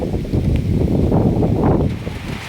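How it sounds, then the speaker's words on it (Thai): Strong wind and rain roar steadily outdoors at a rural home in Ban Kut Khwai, Thailand, as a storm blows in. The noise is a dense, close rush with no voices. "ทั้งลมทั้งฝนมื้อนี้"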